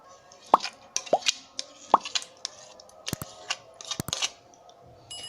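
Orange jelly pieces drop into a dessert mixture for lab e shireen, producing a series of soft wet plops and squishes, close and irregular, some sharper clicks among them.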